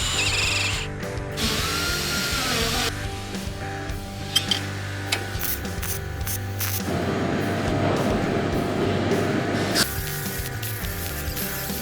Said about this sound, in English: I'm going to punch a bunch of holes in it so I can do some plug welds